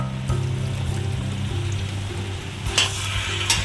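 Pumpkin, eggplant, potato and carrot for a Bengali mixed vegetable curry with fish head are stirred in a sizzling pan: a steady close fry with scraping spoon strokes and a couple of sharper clatters near the end, no voices.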